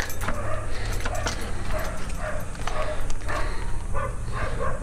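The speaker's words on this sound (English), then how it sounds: "Shut it, dogs." Several dogs barking and yipping at home, short repeated barks in bursts over a steady background noise, fairly close and loud.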